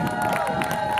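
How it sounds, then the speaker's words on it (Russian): Audience applause and cheering from a crowd at the outdoor Dikaya Myata music festival, a brief steady wash of clapping and shouts lasting about a second, fairly loud and dense. "Поэтому еще дозу аплодисментов,"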